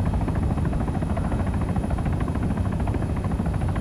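A helicopter in the video game ARMA 3 drones loudly and steadily, a dense rotor and engine roar with rapid, even thudding pulses, heard from close inside the craft with no talking.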